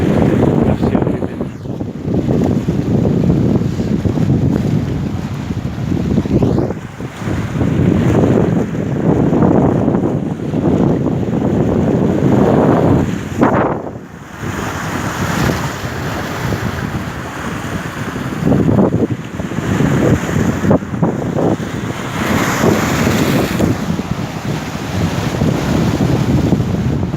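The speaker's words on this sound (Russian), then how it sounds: "Волны накатывают на берег." Waves roll onto the shore in a continuous loud wash of surf, heavily buffeted by wind on the microphone, with surges rising and falling.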